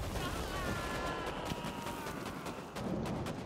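Sustained rapid minigun fire in the video game Vampire: The Masquerade - Bloodhunt, a dense continuous rattle with a whirring tone, fairly faint and constant.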